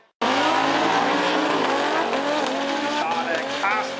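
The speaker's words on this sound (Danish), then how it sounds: "Carsten kæmper inderligt med eskorten, der kører sidelæns hele vejen derned." A methanol-fuelled Ford Escort drag racing car slides sideways down the strip, its engine screaming loud and continuous with tires squealing, and a voice talking over it.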